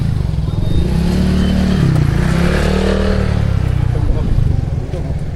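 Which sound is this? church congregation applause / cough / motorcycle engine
motorcycle engine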